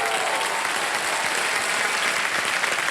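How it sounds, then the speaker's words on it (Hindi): Strong studio audience applause on the KBC quiz show for a contestant who has just quit with 80,000 rupees, a full, even roar of clapping holding steady throughout. "तालियां बज जाए इनके लिए"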